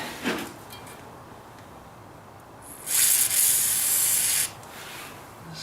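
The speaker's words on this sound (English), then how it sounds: "This isn't real good penetrating spray" Penetrating spray hisses from an aerosol can onto an old snow blower in one steady burst of about a second and a half, close and loud, after a short rub and amid quiet surroundings.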